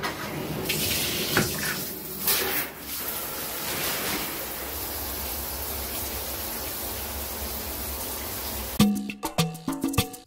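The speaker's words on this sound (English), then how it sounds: "So starting with shower." Water from a shower runs steadily in a bathroom, a broad continuous hiss close to the listener that fills most of the stretch, followed near the end by a few sharp clatters and knocks.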